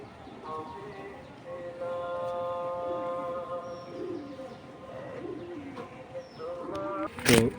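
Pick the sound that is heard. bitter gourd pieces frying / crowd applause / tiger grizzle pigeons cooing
tiger grizzle pigeons cooing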